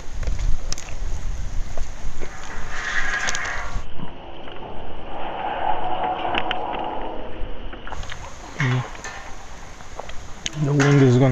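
Outdoor wind beside a kebab house in Bristol buffets the microphone with a loud, continuous low roar and gusty rumble that lasts throughout.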